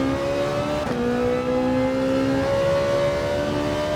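Toyota Supra race car in Gran Turismo 7 holds a steady, loud engine drone with rising harmonic pitch as it pulls through a gear, a brief shift dip near the start, then continued acceleration.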